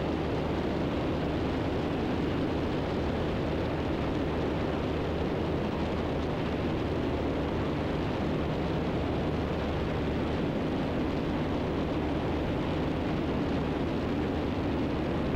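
Steady, loud cabin drone of a Cessna Cardinal 177RG light aircraft in flight on approach with gear down, a continuous broadband roar that holds evenly throughout with no voices.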